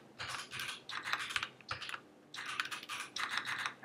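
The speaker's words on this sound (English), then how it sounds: "If I can type it, there we go." Typing on a computer keyboard, close and quiet, in several quick bursts of clicking keystrokes with short pauses between them.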